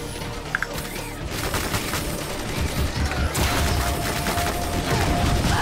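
Rapid, dense gunfire from enemies in the shooter game Ion Fury, a loud continuous fusillade of overlapping shots that swells after the first second and keeps up to the end.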